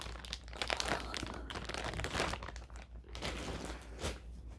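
Paper note cards rustle and crinkle continuously as they are handled up close, a soft, dense shuffling with occasional sharper crackles.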